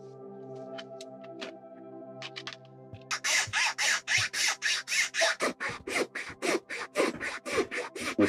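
A rasp files down a drinking horn being carved into a raven's head, starting after a quiet stretch and then settling into fast, even, close strokes in a steady back-and-forth rhythm.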